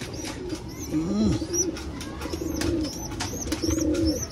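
Pigeons coo repeatedly in low, throaty rolls, with a breeder pair near a growing squab, faint chirps and background noise around them.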